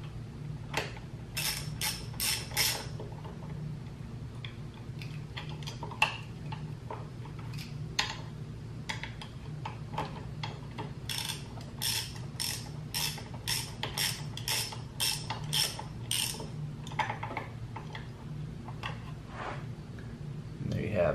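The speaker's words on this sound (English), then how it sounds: "continue to remove the top two 8mm bolts." Hand ratchet loosening the top two 8mm bolts from the slip-on exhaust bracket of a 2021 KTM Duke 390, giving bursts of rapid, close clicking that repeat across the clip over a low background hum.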